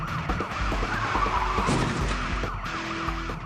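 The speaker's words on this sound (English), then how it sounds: "and then ramming him off the road altogether" A police cruiser rams a suspect's car off the road in a chase: tire skidding and car noise with a siren wail in the mix, busy and fairly loud, ending in a short sharp impact burst.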